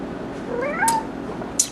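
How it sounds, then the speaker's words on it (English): A cat gives a single short, rising meow, close and clear, followed by a couple of faint clicks. "You guys met my cat, right?"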